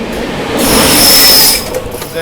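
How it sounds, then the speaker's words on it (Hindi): Gaya–Delhi Amrit Bharat Express passing, a loud swelling rush with a high metallic whine that peaks and then fades, over steady railway rumble. "गया दिल्ली अमृत भारत एक्सप्रेस"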